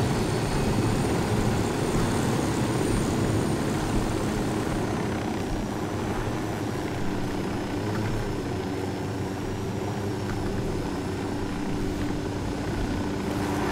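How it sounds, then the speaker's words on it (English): A steady video game helicopter rotor and engine drone from Ghost Recon Wildlands runs throughout, loud and continuous, with no one speaking. "I've not flown the helicopters in this before properly,"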